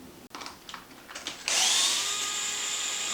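A power tool with an 8 mm bit removes the front wheels of a Traxxas Maxx RC truck: a few short bursts, then a sustained, close whirring spin.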